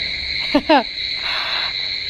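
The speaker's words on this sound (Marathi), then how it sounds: "रातकिड्यांचा आवाज ऐकून मला भीती वाटते" Crickets chirp at night outside a home balcony, a steady high-pitched trill that runs unbroken through the whole stretch, with a brief harmonic call rising over it near the start.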